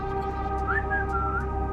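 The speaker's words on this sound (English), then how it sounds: "I can scream, I can whistle" A person whistles into a new microphone: a short wavering whistled phrase rising and falling in pitch over a steady background hum.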